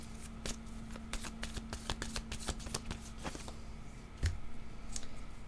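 A deck of cards is shuffled by hand before another card is drawn, a rapid run of crisp riffling clicks, close and fairly quiet, ending with a single sharper tap.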